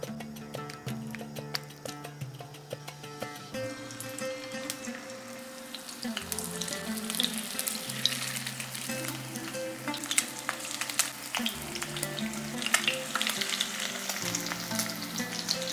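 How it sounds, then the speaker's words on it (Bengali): Fish sizzles steadily in well-heated oil in a single pot, a continuous close crackle and hiss with light background tones, no voices over it. "প্রথমে মাছটা ভেজে নেব।"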